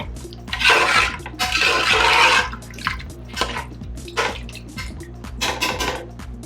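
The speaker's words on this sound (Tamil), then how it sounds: "இப்போ தண்ணி கொதிக்க ஆரம்பிச்சிச்சு." Water in a cooking pot starts to boil while mint chicken rice is being made, with bursts of bubbling and sloshing separated by quieter gaps.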